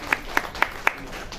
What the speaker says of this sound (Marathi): खरंच टाळ्या वाजवून दाद देण्याची गोष्ट.